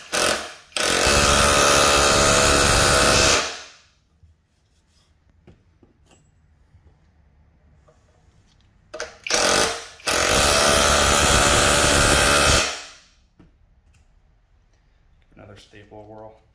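A Skil auto hammer drives a 3.5 inch galvanized framing nail. Two long, loud bursts of rapid mechanical hammering, each a few seconds long, are heard close by with a quiet pause between them.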